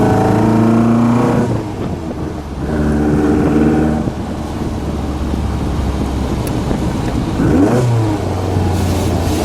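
The 1-liter four-cylinder engine of a 1965 ASA 1000 GT Spider revs and accelerates loudly from inside the cabin, rising through several gears with brief drops between shifts, no talking.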